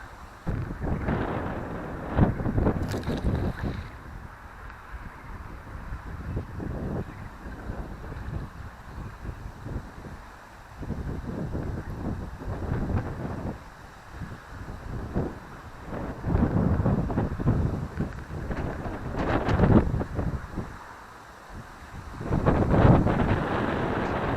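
Wind buffets the microphone outdoors during magnet fishing, with loud uneven gusts and rumbling swells coming and going across the whole stretch.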